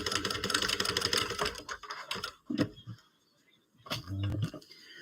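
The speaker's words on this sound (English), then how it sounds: "So I'm just basting this side, making sure that everything lines up" A sewing machine basting the seam of a project bag, a close, fast rattling stitch run that stops, followed by a few clicks and handling sounds, then a second short burst of stitching.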